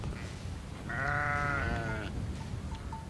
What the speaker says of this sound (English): They allow hundreds and thousands of sheep and goats to walk across here